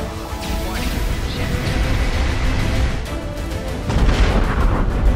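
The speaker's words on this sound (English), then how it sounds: "Taking hits from a frigate." Starship combat in Star Trek Online, a frigate landing weapon hits on the ship: a dense, continuous barrage of booming impacts, blasts and whooshes, loud and sustained, swelling toward the end.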